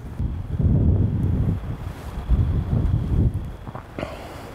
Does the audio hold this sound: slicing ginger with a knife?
no